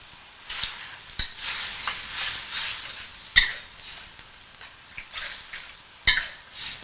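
Lobster stir fry with pineapple and cilantro sizzles steadily in a pan, a broad hiss broken by a few sharp clatters of stirring, close and alone.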